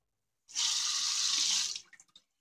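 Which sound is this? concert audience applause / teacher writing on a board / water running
water running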